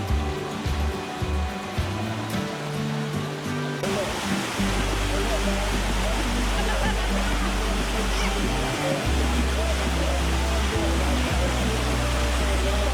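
A river stream flows beside a campsite, giving a loud, steady broadband rush. Different, mixed background sounds come first, then the continuous roar of water fills the rest.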